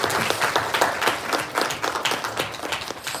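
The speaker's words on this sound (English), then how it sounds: "Can we have a round of applause for the unveiling" A small workshop audience claps for the unveiling of a manual, with distinct, uneven bursts of hand clapping at close range that keep going steadily for a few seconds.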